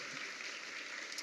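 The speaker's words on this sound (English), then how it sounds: "big round of applause" A faint, brief round of applause from a conference audience at the Chrome Dev Summit, a short steady patter heard from a distance.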